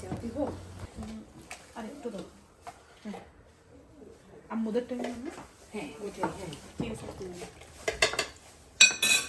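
Pots and pans clatter in a home kitchen as two sisters cook traditional Chittagong mezbani beef curry in mustard oil, with scattered metallic clinks and scrapes among people talking nearby.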